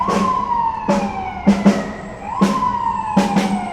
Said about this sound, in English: Another emergency vehicle.